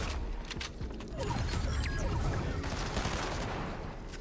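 Rapid gunfire crackles and mechanical clatter from a battle royale video game, a dense, continuous burst of shots that runs steadily through the whole stretch with no talk over it.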